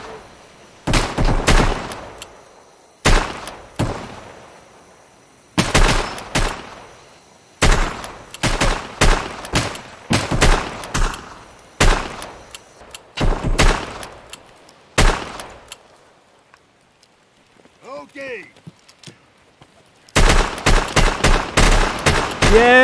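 MP18 break-action rifle shots ring out in Escape From Tarkov, loud single cracks fired in uneven bursts and spaced shots, with a brief quieter gap before a final cluster.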